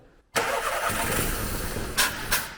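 An old car engine that has sat unused for seven years cranks with a steady, loud, grinding whir that starts abruptly and keeps turning without catching, then gives two brief louder surges near the end.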